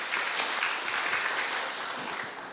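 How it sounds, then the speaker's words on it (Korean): A church congregation at a Sunday service applauds an elder returning from a painting mission trip: a brief, even roll of many hands clapping in a large room, fading slightly at the end. "박수로 한번 해주시기 바랍니다."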